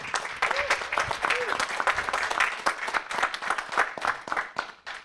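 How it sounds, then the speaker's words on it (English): Audience applause at a venture capital panel on health tech innovation, dense steady clapping throughout with a few brief voices mixed in. "Save the big applause for the end."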